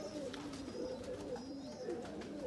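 Breeder and high-flyer pigeons for sale in Faisalabad coo steadily in a soft, repeated throaty rhythm, close by under a constant background hiss with occasional faint chirps.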